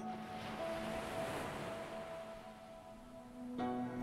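Gentle water sound for a relaxing guided meditation: a steady wash like soft surf or waves, continuous and moderately quiet, with a faint sustained tone running through it and no voices.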